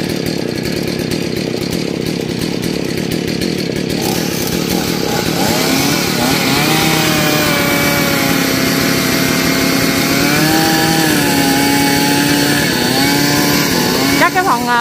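A chainsaw engine runs loud and steady while felling a large rain tree growing right against a house wall, its pitch rising and dipping as the bar bites into the wood, with voices and background music mixed underneath.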